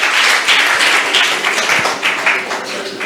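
Audience applause after a Hindi poem recital at a Hindi Day poetry event in an academy hall, a dense continuous clapping from a crowd, loud and sustained throughout.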